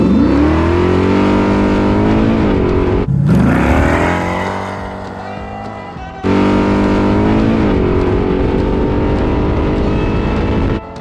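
A Chevrolet Malibu drag car on drag radials at a track in Cleveland roars loudly under hard acceleration. The engine note climbs steadily through gear changes with sharp breaks between the pulls and stays loud and close throughout.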